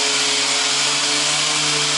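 Steady, loud power sanding on the steel body panels of a 1965 Galaxie 500, a continuous close buzzing hum with no pauses.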